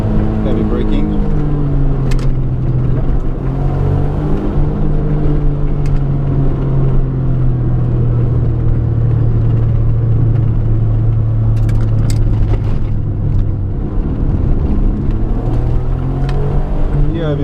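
A 1992 Suzuki Cappuccino driving down Mt. Rokko in Japan, engine rumbling loudly from the cabin with falling pitch under heavy braking into a downhill dive, with someone talking over it.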